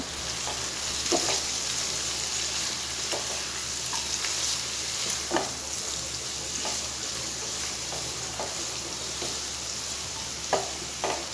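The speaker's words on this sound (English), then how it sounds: "now again we'll saute this for 3 to 4 minutes" Hakka noodle ingredients fry in a pan with black pepper and red chili powder, a soft continuous sizzle broken by occasional stirring clatters, close and fairly quiet.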